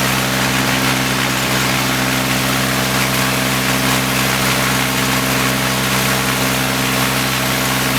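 A Darley AGE fire pump engine runs steadily during a pump test, a loud, constant mid-low drone with a fixed harmonic hum and no change in speed.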